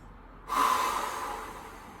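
One deep breath drawn sharply through the nose then slowly released, close and clear during a core stability workout, alone without speech.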